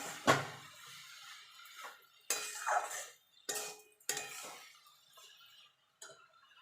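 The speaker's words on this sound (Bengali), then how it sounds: "চিনিটা দিয়ে ভালো করে মিশিয়ে নেব" A spoon scrapes and knocks against a pot while sugar is stirred into carrot halwa, giving several separate clinks and scrapes with quiet gaps between them.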